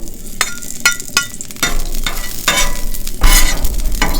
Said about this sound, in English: So the barbecue's getting nice and hot. Just going to get my fat and put that